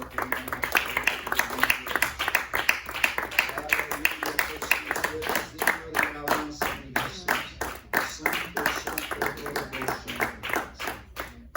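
A church congregation claps hard and steadily, a dense wall of rhythmic applause filling the room, with a voice speaking and calling out over it.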